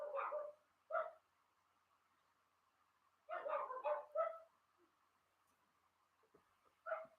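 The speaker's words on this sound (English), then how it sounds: "don't know if you can hear my dogs going crazy." Several dogs barking excitedly indoors, in loud clustered bursts with short gaps, some yips, fairly close, heard alone without talk.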